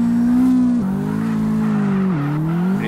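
A Honda S2000 in CarX Drift holds a long handbrake drift, its tires squealing loudly and steadily over the engine drone, the pitch dipping briefly as the slide shifts.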